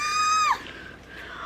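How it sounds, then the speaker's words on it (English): A single short, high excited scream with a bright sustained pitch that cracks and drops, followed by a fainter breathy tail. "oh, hold on, I gotta scream a little bit"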